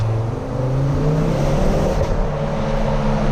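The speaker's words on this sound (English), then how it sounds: "Those pops and bangs are just timeless." A 2010 Ford Focus RS engine rumbles steadily and loudly up close, its low exhaust note droning throughout without clear separate pops standing out.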